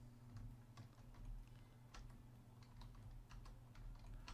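Rapid keystrokes on a computer keyboard, clicking in an uneven, steady run over a low background hum during a Pokemon Scarlet and Violet session.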